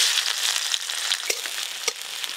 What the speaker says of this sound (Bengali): প্রথমে আমি পেঁয়াজ কুচি দেব।